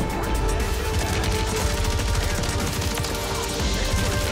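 A steady, dense barrage of gunfire and explosions rolls on without pause in Warzone's Zombie Royale mode, loud and continuous throughout.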